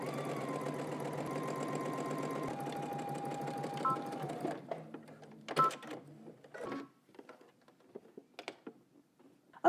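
A sewing machine stitching a pocket facing down to a pocket, running in a steady mechanical whir for several seconds, then stopping, followed by short clicks, fabric handling and small bursts.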